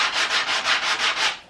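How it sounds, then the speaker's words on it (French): A piece of wood is rubbed back and forth by hand over sandpaper glued to a hard board to flatten it and remove saw marks, giving six or seven even, rhythmic scratchy strokes, close and fairly loud. "C'est du papier sablé collé sur une planche dure et où je vais venir passer mon morceau pour le rendre un petit peu plus plat."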